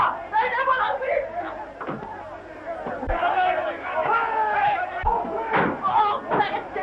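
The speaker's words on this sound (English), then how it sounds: "Break down the door!" Thuds and slams against a door as it is broken down in a 1933 Oliver Twist film drama, with repeated heavy knocks amid shouting and an agitated crowd talking throughout.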